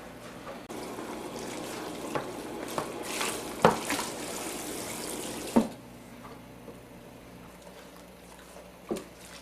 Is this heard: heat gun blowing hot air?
no